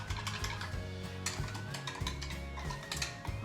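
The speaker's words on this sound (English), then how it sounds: "And 3 tablespoons of cornstarch. I'm just gonna whisk that together." Cornstarch being whisked into liquid in a bowl, a quick, rhythmic scraping and clinking of the whisk against the sides, close and continuous, with a faint tonal hum behind it.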